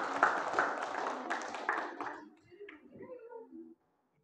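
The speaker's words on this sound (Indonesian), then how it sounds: "tepuk tangan untuk kelompok Tina" A classroom group claps briefly in a short burst that fades after about two seconds, and quieter murmuring voices follow.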